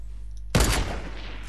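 Gunfire in the Fortnite video game: one sudden, loud shot cracks out after a quiet stretch, then trails off into a fading tail.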